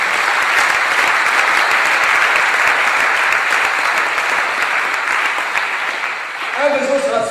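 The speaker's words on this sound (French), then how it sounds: "On peut acclamer pour le Seigneur comme on a dit." A church conference congregation applauding and cheering for the Lord, loud sustained clapping from a large crowd that fades slightly near the end.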